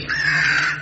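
A single harsh, drawn-out crow caw, close and fairly loud, with nothing else around it.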